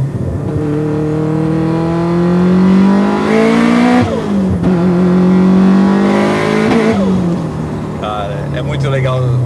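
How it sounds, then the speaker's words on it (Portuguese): A Subaru WRX STi street car revs hard with turbo spool, the engine note climbing and falling through repeated pulls, loud and close, with someone talking over it. "o spool da turbina acontece na minha cara aqui"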